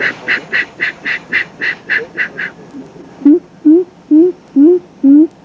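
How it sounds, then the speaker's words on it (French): Agami heron calls in a swamp with palm trees, a run of about nine short evenly spaced honking notes, then a pause and five deeper, longer croaking calls, clear and close with nothing else over them. "C'est le cri de Agami."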